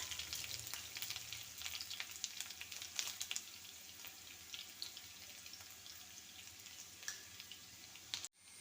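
Green chilli, ginger and garlic are frying in hot oil with mustard seeds in a pan for a bitter gourd curry, giving a close, steady crackling sizzle with no voices.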